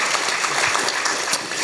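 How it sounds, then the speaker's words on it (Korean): Audience applause at a university lecture hall in Gwangju, a steady broadband clatter of many hands clapping at once, fairly even in level and heard alone without talk. "박수 쳐주는 거예요?"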